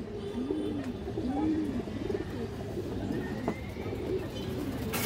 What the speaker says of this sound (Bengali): এই যে দেখেন কবুতরটা দর্শক